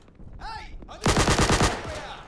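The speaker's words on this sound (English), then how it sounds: "Sten is an interesting weapon." A Sten submachine gun fires in the shooter game Day of Infamy. One loud, fast automatic burst of about eight rounds follows a brief quieter sound, then a fading echo.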